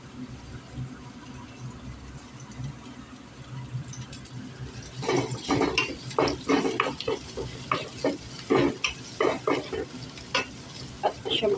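Squash simmering in coconut milk in a pan is stirred, with quiet bubbling at first and then a run of repeated scraping and sloshing strokes under a faint sizzle.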